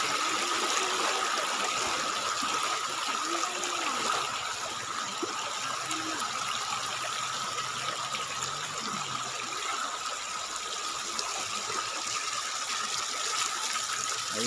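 Hot spring water at the Malabuyok falls in Cebu flows in a steady, loud, continuous rush with no break, and faint outdoor background beneath.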